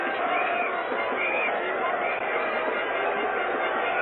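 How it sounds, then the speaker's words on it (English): A huge crowd at Lord's pours onto the cricket pitch after the 1975 World Cup final between West Indies and Australia. A dense, steady roar of many voices runs throughout, loud and continuous on a thin, muffled old broadcast recording. "And the crowd gathering in there now, mobbing over the pitch."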